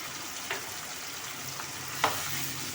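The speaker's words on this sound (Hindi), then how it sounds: "और अब इसके साथ हम अच्छे से चिकन को भून लेंगे।" Chicken frying with ginger garlic paste in a karahi, a soft continuous sizzle with a couple of brief stirring scrapes, quiet and close, no voices.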